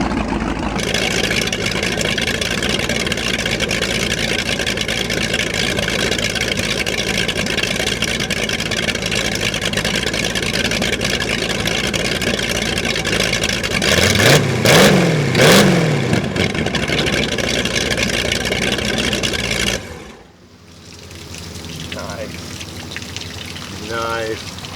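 19-foot sport race boat running at speed, a loud steady engine roar mixed with wind and water rush that drops sharply near the end to a quieter idle.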